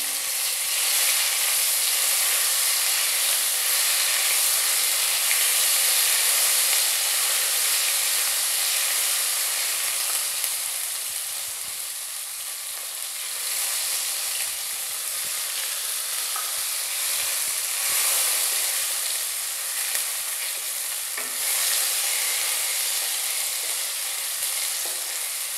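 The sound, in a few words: green chili and garlic paste frying in a pan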